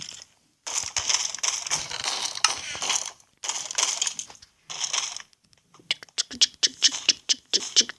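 Blocks are broken in a survival video game, a run of crunching, scraping bursts in several long stretches followed by quick rhythmic hits, loud and close.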